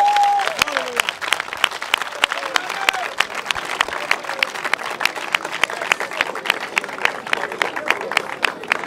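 A church congregation applauds in dense, continuous rapid clapping that fills the room, with voices calling out over the applause.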